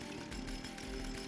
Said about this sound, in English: That chainsaw's kind of loud.